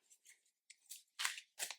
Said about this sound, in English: This deck shuffles really well.